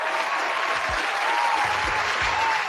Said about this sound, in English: Give her a round of applause for that one.